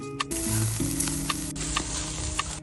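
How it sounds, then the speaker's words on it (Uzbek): Steaks sizzle steadily on a hot charcoal mangal grill, a close, continuous crackling hiss with small pops throughout. "steyklarimizni birin-ketin qizib turgan mangal ustiga terib chiqamiz"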